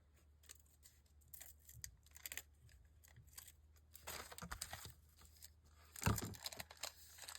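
Scissors snip through junk mail paper in short crisp cuts, with rustling and crinkling as the paper is handled. The sounds are close and quiet, one louder crunch near the end, and no one speaks.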